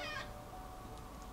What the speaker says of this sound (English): Don't meow.